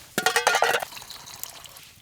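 Rocks dropped into boiling water at a bushcraft camp make a quick burst of clinking splashes and bubbling, then a quieter hiss and a faint drip as it settles.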